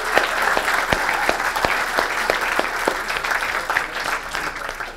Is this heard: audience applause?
yes